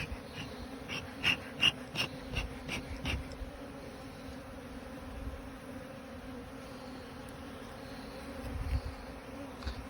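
Honeybees buzz steadily during a check of a newly transferred hive, a quiet, continuous drone with a few sharp clicks and knocks near the start and no one talking.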